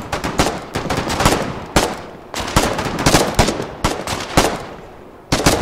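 Field gun firing in the wartime video game Foxhole: a steady run of sharp, heavy shots at irregular intervals, loud and punchy, each with a short rumbling tail, and no talk.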